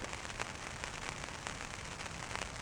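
Rain falls at a windy wild campsite in Scotland as a faint, steady patter and hiss on the tent, with a few sharper drops ticking through the even wash of sound.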